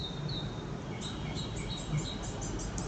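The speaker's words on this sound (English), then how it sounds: "Like right now," Faint high chirps and short tweets of birds sing outdoors in quiet surroundings, a few brief calls repeating over a soft background hiss.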